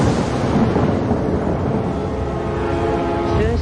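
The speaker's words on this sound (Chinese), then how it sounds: "只是凑巧撞上打雷天而已。" Thunder in a kung fu film scene, a heavy continuous rumble filling the whole stretch at loud level, with a faint tonal sweep near the end.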